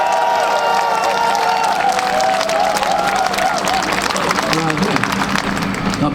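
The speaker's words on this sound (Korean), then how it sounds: "시도의원 여러분들께 박수 한번 좀 보내주시기 바랍니다." Audience applause at a political rally, dense continuous clapping from a large crowd with some cheering, loud and sustained, while a voice carries on over it.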